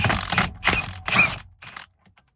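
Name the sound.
ratchet removing a steering wheel bolt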